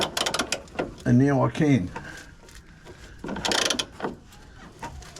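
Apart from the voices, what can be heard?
ratchet wrench loosening a bolt on a swingarm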